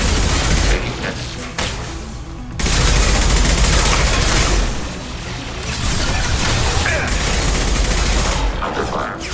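Loud, sustained volleys of gunfire and booming impacts fill a combat scene in Mass Effect 2 Legendary Edition during Tali's loyalty mission, with heavy overlapping shots that pause briefly before resuming.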